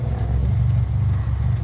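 A car engine runs steadily during home repair work, a continuous low rumble heard close by with no pauses and no voices.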